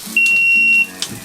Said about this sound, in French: a l'alarme incendie, mais c'est l'huile.